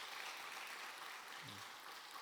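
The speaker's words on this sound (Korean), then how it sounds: "우리 다 같이 박수로" Steady applause from a church congregation at a Wednesday worship service fills the space, a continuous even wash of clapping with a brief low voice murmuring under it.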